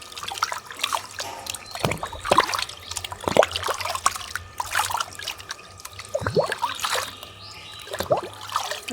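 Pooja vessels are rinsed under running water, which trickles and splashes in uneven bursts close by, with light handling noise and no talk.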